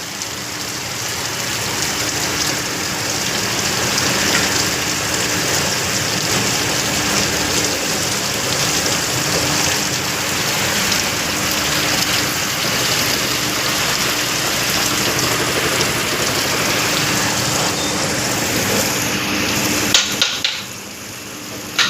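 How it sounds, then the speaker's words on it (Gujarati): Heavy rain pours down steadily, a dense, even hiss that holds at constant loudness for about twenty seconds, with no voices over it. "વરસાદ ચાલુ થઈ ગયું।"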